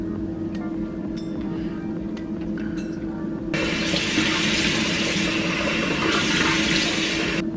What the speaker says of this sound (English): To rinse off my mask, I'm going to use this Banish All Clear Mint Cleanser.